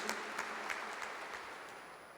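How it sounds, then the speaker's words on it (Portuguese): Church congregation clapping together in a steady, continuous round of applause, fairly distant and diffuse, with a few sharper bursts of claps near the start and no talking. "uma salva de palmas para a palavra de Deus"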